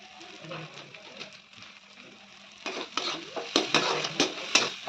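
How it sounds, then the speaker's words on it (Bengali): Spices frying in oil in a pan with Kashmiri red chilli, stirred with a utensil; soft sizzling and scraping grow into louder, rhythmic stirring strokes in the second half, with faint talk early on. "যতক্ষণ তেল না ছাড়ছে ততক্ষণ ভালো করে নাড়িয়ে নেবো"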